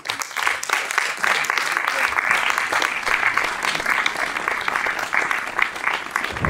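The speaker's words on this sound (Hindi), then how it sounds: "इनके लिए जोरदार तालियां।" Audience at a book launch event in Chandigarh breaking into loud, sustained applause, a thick wall of many hands clapping with faint crowd murmur mixed in throughout.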